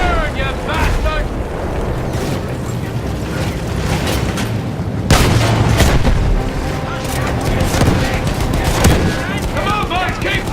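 Battlefield 1 video game combat, with rapid gunfire, machine-gun bursts and heavy explosions booming in a dense, loud barrage, and shouted voices over the fighting.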